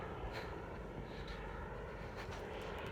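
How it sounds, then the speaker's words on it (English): A low-flying airplane passes overhead as a faint, broad engine rumble and roar that holds steady throughout, heard from some distance with no talk. "And that plane's kind of flying low."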